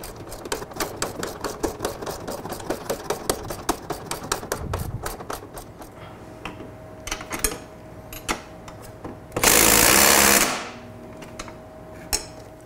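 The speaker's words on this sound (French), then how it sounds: "Maintenant, c'est le temps de serrer les deux vis." A hand tool tightens two screws on adjustable collars fitted to a Can-Am Spyder, making rapid ratchet-like clicking in close bursts that slow to sparse clicks, with a short loud hiss partway through.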